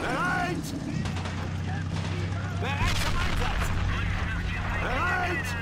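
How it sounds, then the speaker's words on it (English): Katyusha rocket artillery fires on a Hetzer tank destroyer in a war video game, a dense barrage of bursts and booms over a steady low engine drone, with voices and chatter running over the top. "Katusha continues to fire at the Hetzer, better than firing at the infantry."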